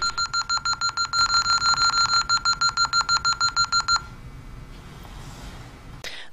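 Alarm control panel arming countdown, a rapid, evenly spaced run of sharp electronic beeps, close and clear, stopping abruptly after about four seconds, followed by quiet room noise and a faint click.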